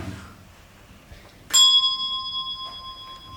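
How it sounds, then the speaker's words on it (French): A bell is struck once during a children's interactive show at a school. It gives a sharp, bright strike, then a clear ringing tone that slowly fades in a quiet room. "quand il tape sur une troisième cloche"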